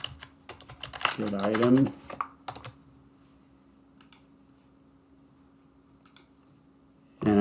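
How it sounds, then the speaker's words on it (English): Computer keyboard typing, with bursts of key clicks running beneath a voice at the start, then scattered sparse taps through a quieter stretch before more talk at the end. "So again, I'll type in SharePoint. Let's type in"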